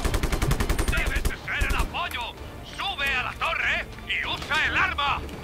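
Rapid machine-gun fire bursts loudly in the Just Cause 3 video game, then breaks into scattered shots and volleys under a man's frequent excited speech.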